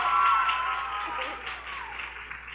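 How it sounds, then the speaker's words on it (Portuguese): Audience applause at the Bienal do Livro Rio 2019 book fair, steady dense clapping from a crowd that fades gradually over a couple of seconds, with a faint whistle or cheer near the start. "palmas de novo para essas maravilhosas"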